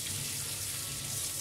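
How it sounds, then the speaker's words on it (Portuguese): Hot water from an electric heater tap runs steadily into a sink while a miniature is washed, a continuous even rush with no pauses and no voices. "No meu caso facilita, que eu já lavo com água quente da torneira elétrica, do aquecedor elétrico aqui"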